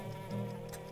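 A fly's buzzing drone in the fly simulator video game Time Flies, a steady close whine with a slight rise partway through, heard alone.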